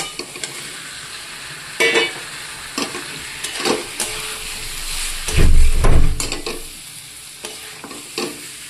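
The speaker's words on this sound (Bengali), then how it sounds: "মশলা কষা হয়ে গেছে, এবার আলুটা দিয়ে দিচ্ছি।" Potatoes go into a pan of sizzling, fried-down turmeric and Kashmiri chilli masala for a potato and mushroom curry, with steady frying hiss, repeated spoon stirring and scraping, and a louder burst of sizzle midway as the potatoes hit the oil.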